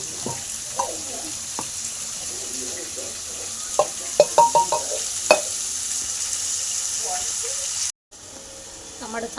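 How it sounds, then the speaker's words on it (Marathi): Onion and tomatoes frying in a pan for pav bhaji, a steady sizzle and hiss with a cluster of light scraping and tapping stirs near the middle, a brief dropout near the end, and no clear talking. "टमाटर चांगलं तळून झालं"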